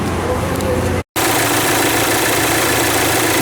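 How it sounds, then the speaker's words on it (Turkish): A Volkswagen Amarok engine idles after an oil change with a steady low rumble and vibration, broken by a brief moment of silence before it resumes at the same level. "motorun sesi yağ değişiminden sonra gerçekten değişiyor"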